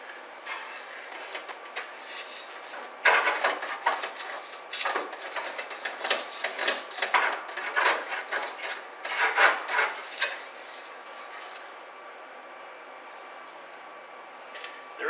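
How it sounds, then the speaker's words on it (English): Metal rod scraping and rubbing inside the fuel tank of a 1950 Plymouth Deluxe, a series of close, gritty scrapes and rasps in irregular bursts, fading to quiet near the end. "I'm going to stick this down in there one more time and scrape it."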